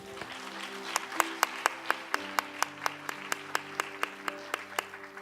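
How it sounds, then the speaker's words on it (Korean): A church congregation claps in a steady, even rhythm, the sharp claps standing out over sustained keyboard or organ tones, with no talking. "박수 올려."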